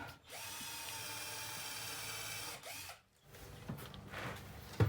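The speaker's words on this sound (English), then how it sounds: "Put some screws in. To the Top counter. of the cupboard." A power drill drives screws into the top of a cupboard during a vintage RV kitchen renovation. It gives two long, loud whirring runs with a short stop between them, then ratcheting clicks and handling knocks.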